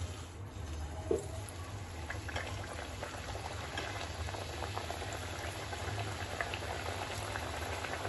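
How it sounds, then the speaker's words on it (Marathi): Malvani chicken vadas fry in hot oil, giving a soft, steady bubbling crackle at moderate distance, with one brief sharper pop early on. "आता आपण हे वडे तळून घेऊ"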